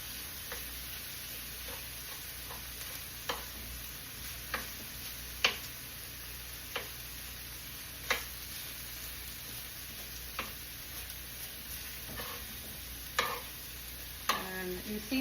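Meat for tacos fries quietly in a pan with a continuous soft sizzle, punctuated by occasional sharp taps and scrapes of a utensil against the pan, close but faint, with no talking.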